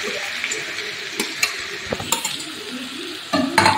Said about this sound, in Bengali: তো তারপরে আমি দিয়ে দিচ্ছি এখানে গ্রেট করে রাখা পেঁয়াজ।